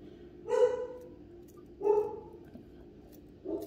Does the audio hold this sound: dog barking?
yes